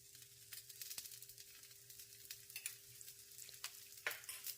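Akki rotti roasts in oil on a pan, giving a soft continuous sizzle with occasional crackles and pops, quiet and close with no talking.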